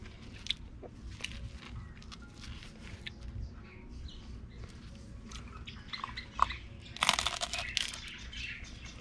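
Someone eating breakfast food from Universal Studios Japan, with soft close biting and crunchy chewing sounds in quick irregular bursts, faint and intimate against low room noise, with a brief voice now and then.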